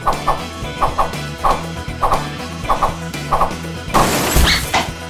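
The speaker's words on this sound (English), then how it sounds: "Whoa, what a crash." Toy cars, including a Lightning McQueen toy, collide in a knockout race. Steady rhythmic music plays for several seconds before a sudden, noisy crash bursts out near the end, with no one talking.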